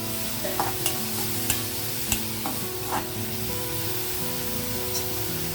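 Masala sizzles and fries in a pan for a drumstick and egg curry, a steady close sizzle broken by a few clinks and stirring scrapes, with no voices.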